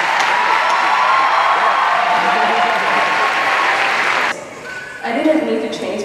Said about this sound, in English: give your parents, your grandparents, your friends, your supporters a huge round of applause.